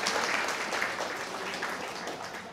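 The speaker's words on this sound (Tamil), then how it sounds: "அந்த ஓதுவாருக்கு ஒரு கைத்தட்டு" A Pongal special gathering applauds a temple hymn singer with a steady, moderately loud wash of clapping that fills the whole moment without talk.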